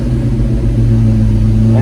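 A Foxbody Mustang engine running on a Terminator X setup idles loudly and close by, its steady low hum climbing slightly as the idle speed rises toward about 1,800 rpm.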